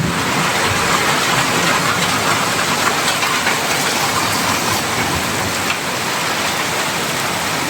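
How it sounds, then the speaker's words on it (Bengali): Rain pours steadily at night during a thunderstorm, a dense, loud, even hiss of falling water with no distinct thunder claps. "হ্যাঁ ওই সাইডে বৃষ্টি হইতেছে"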